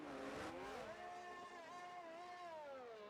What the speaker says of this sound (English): It sounds like there's some revving going on there, but not much movement